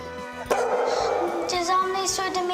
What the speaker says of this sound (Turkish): Mehmetcan Efendi okula köpek sokmuş